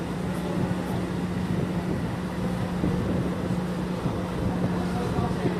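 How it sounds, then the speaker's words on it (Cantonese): A boat crossing to Xiaoliuqiu island gives off a steady engine drone and a low hum, mixed with rushing wind and water noise that stays constant and fairly loud for the whole stretch. "好，依家搭船去"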